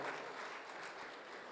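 Applause at a Kavi Sammelan birthday celebration as Maharaj Shri is garlanded by the general secretary, a dense, steady clapping from the audience, fairly faint and continuous for the short stretch.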